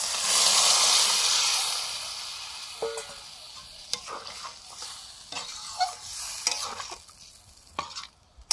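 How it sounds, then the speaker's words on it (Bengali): Boiled chickpeas go into a pan of frying chana masala spices, starting with a loud hissing burst that fades as a spoon stirs and scrapes in repeated clatters. "চানা মশলা, নাড়াচাড়া করে সেদ্ধ করা কাবুল ছোলাটা দিয়ে দিচ্ছি।"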